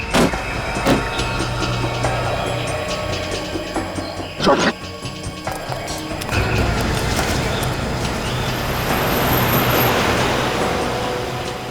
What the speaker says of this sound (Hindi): गाड़ी तेज चला, तेज।